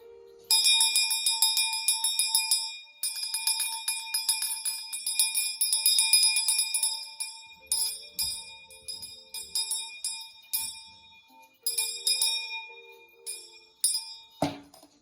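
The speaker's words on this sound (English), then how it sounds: "we'll do a sound clearing with my Mother Ocean's bell" A bright metal ocean bell rings repeatedly in steady strikes for a sound clearing, each tone shimmering and decaying, with a few lower knocks between; it stops abruptly near the end.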